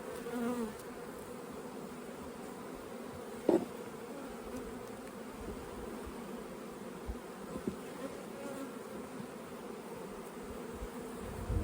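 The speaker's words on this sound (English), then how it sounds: "Look at all these little young bees walking around." Honeybees buzz steadily around an open brood frame lifted from a hive, a close, continuous drone with no talking and only a few faint knocks.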